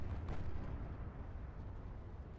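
A destroyer blows up in a naval battle game, a muffled, rumbling blast that swells early and then settles into a low, sustained roar with no voices over it.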